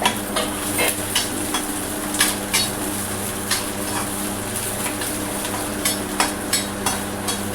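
Okra frying with finely chopped green chili in a very hot pan, a steady close sizzling hiss broken by scattered clinks and scrapes of stirring against the metal.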